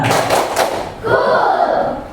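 Elementary school pupils clap together in a three-beat pattern in a classroom, sharp group claps landing close together early on, followed by a stretch of room noise and voices.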